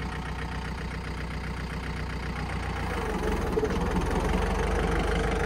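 A 2006 John Deere 4720 compact tractor engine idles with a steady low chug, then the rhythm turns rougher and labored as it bogs down close to stalling, heard up close with no talking.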